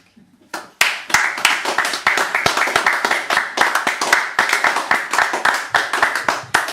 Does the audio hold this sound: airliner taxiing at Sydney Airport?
no